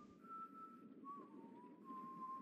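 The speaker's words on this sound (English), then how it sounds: "Who the fuck is whistling" A sustained human-style whistle sounds inside the Game of Thrones Telltale video game, holding a fairly steady tone with a brief break midway, quiet and alone without speech.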